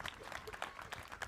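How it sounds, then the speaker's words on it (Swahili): An audience at a memorial celebration for an archbishop applauds in a brief burst of dense clapping, with faint voices mixed in. "Tumpigie Jacob makofi mazuri."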